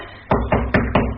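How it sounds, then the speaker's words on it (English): Four evenly spaced knocks sound on a door in a radio-style drama of Shaw's play, firm and fairly close, each a solid thud with a short decay, with no voices over them. "Then knocking, which disturbs Mrs. Dudgeon a little."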